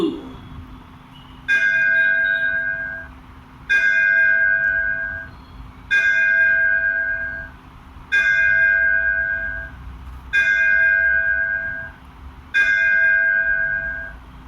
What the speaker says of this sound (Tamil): ஸ்ரீ சக்தி மாரியம்மன் திருக்கோயில் மணியோசை